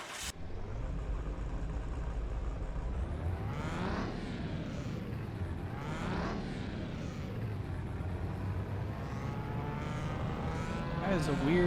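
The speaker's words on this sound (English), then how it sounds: "That is a weird sound to the engine." A modified FMW Roadster engine revs loudly and steadily, its pitch sweeping up and down in repeated rising and falling pulls, carrying an odd, uneven tone.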